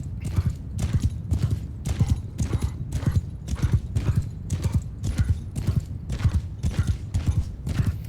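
Cavalry horses in the game Mount & Blade II Bannerlord gallop in a steady, repeating clatter of hoofbeats, many riders moving together at close range.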